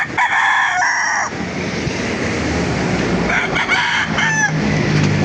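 A Golden Boy rooster crows loudly at a busy chicken market, with two calls rising over a steady crowd hum and further crowing from other birds in the background.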